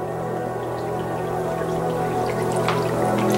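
Water trickles and pours into the side of an HHO hydrocarbon scrubber reactor, a steady close liquid flow over a constant low mechanical hum, with no talking.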